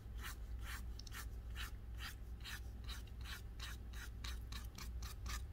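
A paintbrush loaded with moon yellow and marigold paint scuffs outward in short strokes to make rays, a steady run of about a dozen soft rasping swipes, close and fairly quiet over a low background hum.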